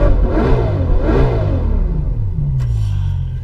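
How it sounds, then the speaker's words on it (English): A V12 engine in a Bugatti Chiron revs loudly twice, each rise swelling and falling back, then settles into a steady, deep idle rumble up close, with no talking. "I'll tell you what is smooth, this V12 engine"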